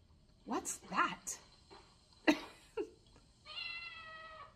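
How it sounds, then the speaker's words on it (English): A cat meows several times in short, close bursts, some rising and drawn out, followed by a brief higher-pitched tonal sound at the end. "Cat's hungry."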